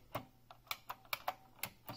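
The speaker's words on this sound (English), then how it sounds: "It reminds me of a very strong sort of buckling spring, but the keys are actually not too heavy. pretty loud keyboard" A Unicomp Ultra Classic buckling spring keyboard clacks out about eight sharp, loud keystrokes at an uneven typing pace, close up and alone.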